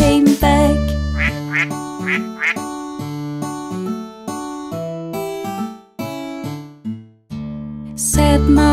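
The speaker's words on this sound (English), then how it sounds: "Mother duck said, quack, quack, quack, quack" Musical quacks of a mother duck in a nursery rhyme, rhythmic repeated quack sounds set against a loud sung children's song with synthesized instruments.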